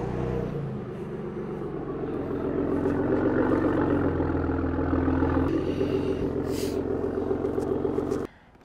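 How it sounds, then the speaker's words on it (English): Ford Raptor EcoBoost truck with a Borla Attack exhaust, a deep steady rumbling growl that swells and holds before cutting off abruptly near the end. Close and loud with no voices. "So the EcoBoost, to me, the Borla Attack is the way to go. So listen to this growl."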